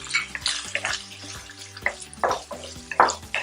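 Lardons tip into a pan of browned frying onions, setting off a crackling sizzle with sharp spatters and stirring clatters, close and fairly loud with no talking.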